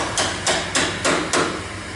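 A hammer tapping a repair panel onto car body metal, five sharp, evenly spaced metallic knocks, close and clear.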